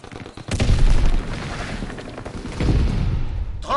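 A grenade blast and gunfire in the video game Call of Duty: WWII, with heavy booming explosions and dense rattling shots rolling in two loud surges, close and without speech.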